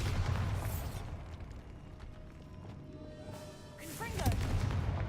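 A Bombarda explosive spell in the Hogwarts Legacy video game, heavy low booming blasts with rumbling debris, the loudest burst near the end, and a voice speaking over the game sounds.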